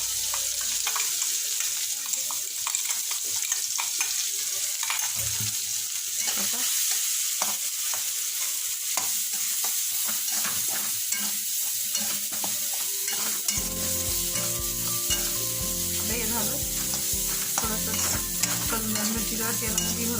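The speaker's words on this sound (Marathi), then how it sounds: "तेल गरम आता कढीपत्ता टाकून" Curry leaves and green chillies frying in hot oil, a steady bright sizzle with stirring clicks, joined later by a rhythmic tapping clatter, close and moderately loud.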